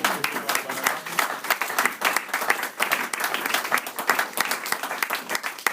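Church congregation applauding during a Sunday service, dense continuous clapping from many hands throughout, fairly loud and steady with occasional voices mixed in.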